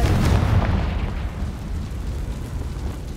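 A Confringo spell explosion in a Harry Potter video game: one deep booming blast that erupts at once and rolls off into a long rumbling decay, loud and heavy in the low end.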